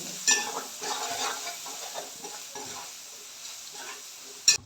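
Soft, close sizzling of tempering spices and finely chopped onion in a pan, with occasional stirring scrapes and a sharp metallic clink near the end.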